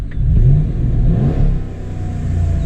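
A 2011 Ram 1500 Longhorn edition pickup's 5.7-liter V8 HEMI engine revs close by, a loud, deep rumbling roar that swells, dips and climbs again over a few seconds.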